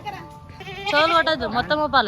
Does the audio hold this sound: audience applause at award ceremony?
no